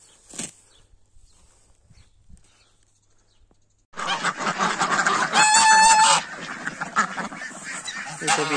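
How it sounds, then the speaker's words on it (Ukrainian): After a few quiet seconds, a loud burst of poultry noise erupts at feeding time in a poultry yard: chickens cluck and squawk, crested ducks quack, and a rooster-like call rises briefly above the din. "Ідемо годувати наших пташків."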